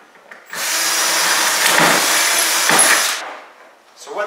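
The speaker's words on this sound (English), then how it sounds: "And you can drill that hole." A power drill whirs loudly for about three seconds drilling a hole in a DIY round hay bale feeder, then winds down, with a brief mechanical rattle just after.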